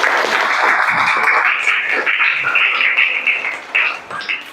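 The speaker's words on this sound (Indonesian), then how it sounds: "Terima kasih, tepuk tangan." Loud clapping from a third-grade elementary class at the end of a lesson on rawatib prayers, lively and uneven, with several children's voices mixed in before it thins out toward the end.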